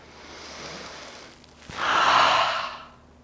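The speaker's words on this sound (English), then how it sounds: "Cleansing breath." A deep cleansing breath during a yoga session: a soft inhale, then a louder, fuller exhale lasting about a second, close and alone with no talking.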